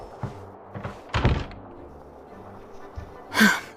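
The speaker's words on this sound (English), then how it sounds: "Open the door." Door opening in Genshin Impact, a short sequence of soft thunks and a muffled thud, followed by a breathy vocal sound near the end, close and brief.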